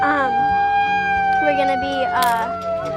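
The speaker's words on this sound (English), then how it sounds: "that's the siren for going to look at it." A siren wails with rising and falling tones, loud and sustained over a steady background hum.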